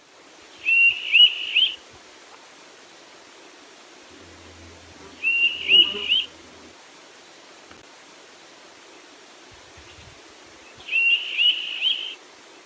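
A common bird giving a rare call in a Colorado pine forest: three separate bursts of short rising whistled notes, spaced a few seconds apart over faint steady background hiss.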